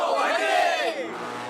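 A team lets out a hearty, loud cheer, many voices shouting together in one short rising-and-falling burst.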